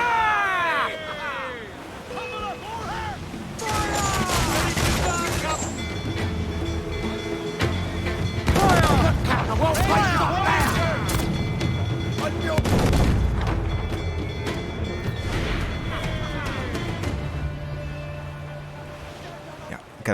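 Ship cannons boom in repeated heavy volleys during a naval battle in the video game Assassin's Creed IV: Black Flag, layered over crew shouts, music and constant battle din.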